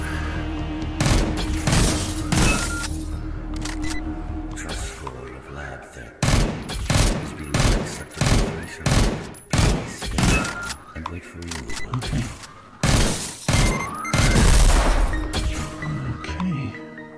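Rapid gunfire fills the video game Neon Chrome, with repeated loud bursts and sharp clattering shots in an uneven rhythm over electronic game sounds, and a voice talks excitedly at times.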